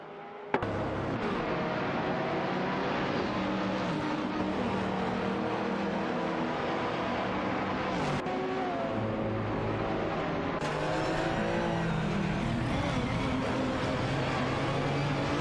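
Race car engines roar continuously in a racing video game with GT2 and GT3 cars such as a Marcos LM600 and Lamborghini Gallardo, a dense, steady engine drone with shifting pitch and no talk.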